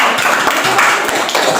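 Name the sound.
class applauding the teacher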